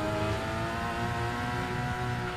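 A racing video game car accelerates hard out of a corner, its engine droning loud and steady with a rising whir and no break.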